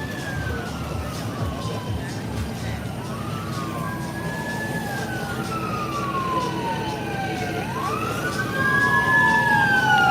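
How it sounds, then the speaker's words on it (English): Sirens wail in rising and falling sweeps, several overlapping, over street traffic noise in North County San Diego, growing louder toward the end. "oh, I hear sirens."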